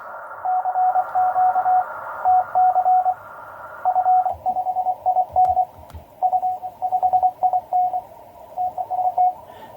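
A Morse CW signal on a Kenwood TS480 radio with a narrow filter sounds as a clean steady tone keyed in dots and dashes. It runs continuously over a faint hiss with a few soft clicks.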